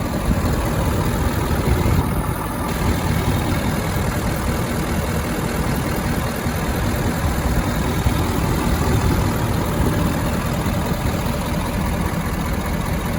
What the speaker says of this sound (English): That turbo diesel is running well